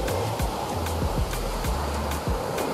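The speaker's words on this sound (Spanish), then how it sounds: "Miren la ola que está apareciendo ahora, enorme, está subiendo la marea" Large waves on a rising tide along the sea coast at La Serena, Chile, where the water has turned murky; steady broadband surf wash rolls on continuously with no voices over it.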